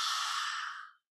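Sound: ujjayi ocean breath exhale, yoga breathing

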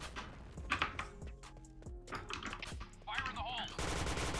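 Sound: gunfire from the video game Point Blank

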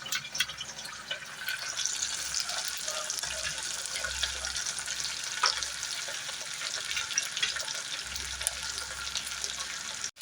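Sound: okra, onion and curry leaves frying in oil

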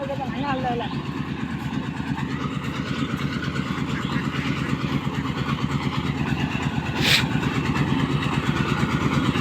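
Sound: auto paddy harvesting machine engine running

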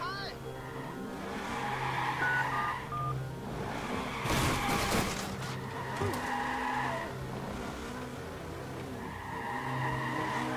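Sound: phone dialing in the video game Watch Dogs

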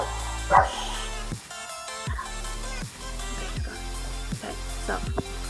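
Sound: dog barking

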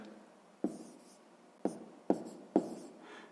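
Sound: writing numbers for a math exercise

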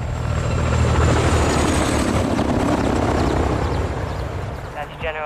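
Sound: helicopter approaching in video game Modern Warfare 2

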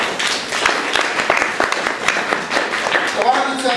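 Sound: congregation clapping in praise

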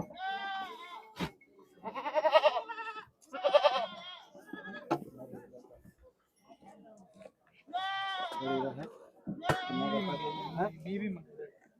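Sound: goats

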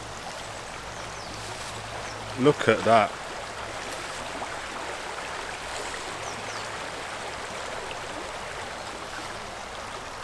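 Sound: river flowing in the countryside

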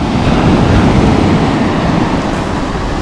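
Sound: sea waves surging on the beach

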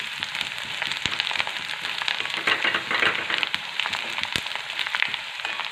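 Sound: coriander sautéing in hot oil

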